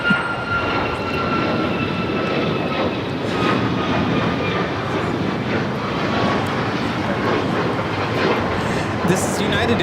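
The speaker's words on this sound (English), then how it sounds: "This is United Airlines" A United Airlines Boeing 737 MAX 9 takes off from Los Angeles airport bound for Houston, its jet engines roaring in a loud, steady broadband rush that holds for the full span with slight swells.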